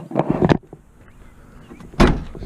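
The hood of a 1997–2005 supercharged Buick Park Avenue closes with a solid thump at the end, after a short rattle of handling close by.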